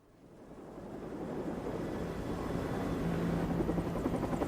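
A helicopter flies near the Space Shuttle Columbia launch site, its rotor rumble and wash swelling steadily louder as it approaches.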